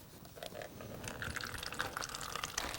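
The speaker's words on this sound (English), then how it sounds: "We are gonna pour this into our 2-liter bottle." About 200 ml of liquid, measured as one cup, poured into a 2-liter bottle for a science experiment, making a faint, gurgling trickle with small splashes and rising glugs over a few seconds.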